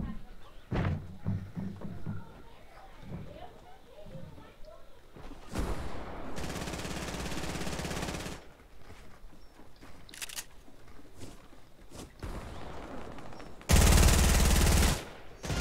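Several sharp bursts of SMG fire in a video game, short rapid volleys scattered among quieter stretches, with people talking in between.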